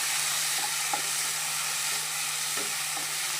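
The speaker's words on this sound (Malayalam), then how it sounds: "എന്നിട്ട് നമുക്ക് നല്ലപോലെ ഒന്ന് വഴറ്റി എടുക്കാം ചെമ്മീനെ" Prawns and cut tomatoes sautéing in a pan, a continuous soft sizzle with a few light stirring scrapes and taps, no voices.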